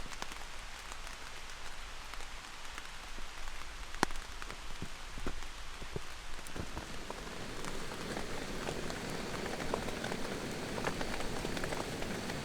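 Rain falling at a wilderness island campsite in Michigan, a steady close patter of drops on surfaces with scattered louder taps and splats, growing slightly denser toward the end, with no voices.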